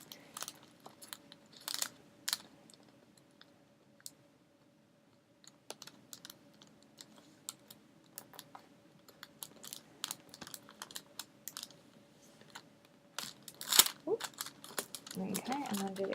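Paper being folded and creased for a window star, with scattered crisp crinkles and sharp taps close by, growing busier and louder toward the end.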